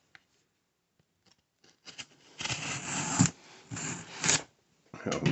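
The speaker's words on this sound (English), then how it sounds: "we're gonna give it a cut here" Scissors slice through the cardboard box of a Shark Navigator Pro vacuum cleaner, giving several close, crisp bursts of cutting and scraping separated by short pauses.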